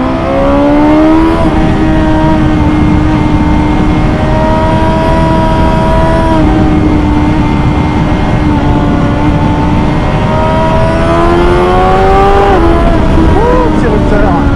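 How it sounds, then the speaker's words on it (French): A 2021 BMW S 1000 XR motorcycle engine revving high in the rev range with a sharp, metallic, piercing tone, loud and continuous, pitch holding then climbing through gear changes as the bike is ridden. "Quand tu arrives haut dans les tours, ça se met à être très métallique"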